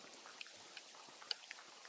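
Rain comes down on a muddy campsite as a faint, steady patter, with scattered sharper drop ticks breaking through now and then.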